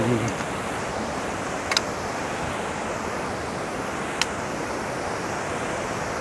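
A rocky mountain river rushes steadily beside a boulder-strewn pilgrimage trail on the Manimahesh Kailash route, a dense, continuous roar of flowing water that stays loud and unbroken, with a few faint knocks on top.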